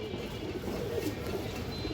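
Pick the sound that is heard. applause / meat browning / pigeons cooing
pigeons cooing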